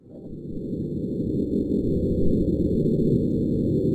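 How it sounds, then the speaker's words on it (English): Sound recorded on Mars by the Perseverance rover: a low, muffled rumbling roar that swells gradually and holds steady, with faint high steady tones above, like wind buffeting a distant microphone. "This is recorded by the Mars Rover Perseverance."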